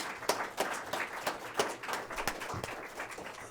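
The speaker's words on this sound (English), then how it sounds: "Let's have a round of applause for our panel here." Scattered audience clapping for a conference panel on international infrastructure investment, a modest crowd applauding with uneven individual claps rather than a dense roar.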